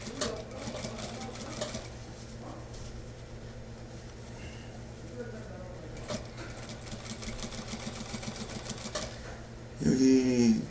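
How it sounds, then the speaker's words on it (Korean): A sewing machine stitches a suit's front pocket in quick rhythmic bursts, its steady mechanical chatter starting and stopping, with a low hum underneath and a short louder clatter near the end. "쭉 박고 있는 거예요."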